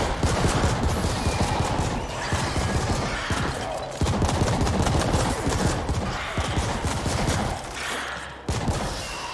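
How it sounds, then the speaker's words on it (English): Hip-fire gunshots from the video game The Ascent, loud and near, ripping out in dense rapid bursts almost without pause, with brief breaks around the middle and near the end. "So back there we were just hip firing."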